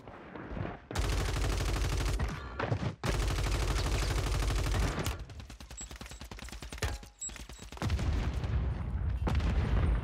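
Heavy gunfire in the shooter Warzone 3, with loud sustained automatic bursts from an SMG-style weapon broken by brief pauses and then resuming at close range.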